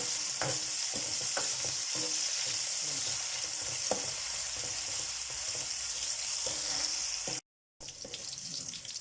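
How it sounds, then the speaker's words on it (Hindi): Continuous loud sizzling of onions frying toward golden in a pan, with occasional stirring clatter and a brief dropout near the end. "यहाँ पे प्याज को भूनेंगे, थोड़ा सुनहरा करेंगे"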